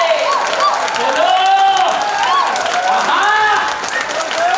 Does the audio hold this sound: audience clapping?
yes